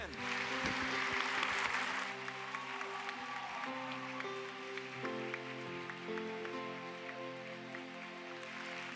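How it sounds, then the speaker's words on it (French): A church congregation applauds during a French-language service, a steady wash of clapping sustained throughout, with organ or keyboard chords playing underneath. "Applaudissez-les bien fort pendant qu'ils y vont."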